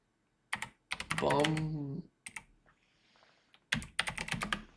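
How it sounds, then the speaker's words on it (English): Rapid clicking of keys on a computer keyboard, bursts of fast typing separated by short pauses, close and quiet, with a voice talking over part of it. "I'm typing this."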